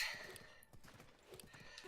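A horse in Zelda: Breath of the Wild gallops with quick, quiet clip-clop hoofbeats and gives a brief whinny, faint and close, with no talk.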